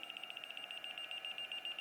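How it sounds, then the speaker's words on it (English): A LiPo battery alarm sounds a rapid, steady string of high electronic beeps, evenly spaced and continuous at a moderate level, with no voices. "A Lipo alarm, on the other hand, is saying we have a big variation,"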